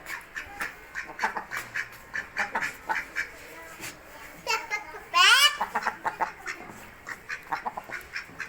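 Swimming ducks quack in repeated close bursts with a rapid harsh flurry in the middle, while children's voices and chatter mix in around them.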